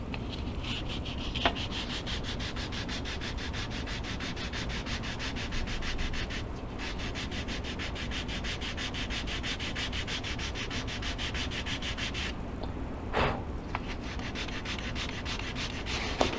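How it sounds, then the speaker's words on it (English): A wooden block is sanded by hand into a round shape for an electric motor pod on a control line model airplane, giving a continuous close rasping scrub with a few brief knocks. "whenever I sand this into a nice round block"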